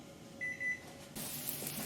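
A short electronic beep from an oven timer sounds briefly over a low hum, followed by a steady hiss of fan or vent noise.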